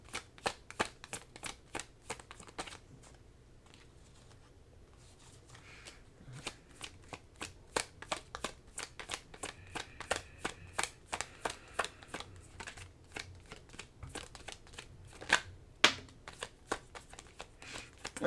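Tarot cards shuffled by hand in a quick, close series of crisp riffling and slapping bursts that run steadily for the whole stretch, with a brief quieter pause early on and no talking.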